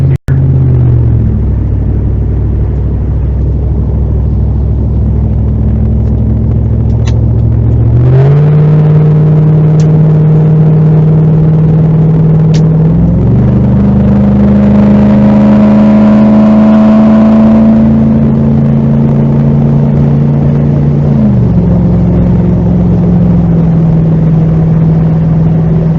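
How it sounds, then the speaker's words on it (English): A 2007 Ford F-150 Lariat with the 5.4L 3-valve V8 pulls on the highway at half throttle, its exhaust drone rising through the gears with distinct shifts, loud and continuous with no talking. "And I'm not gonna floor it, but I'll give like a half throttle."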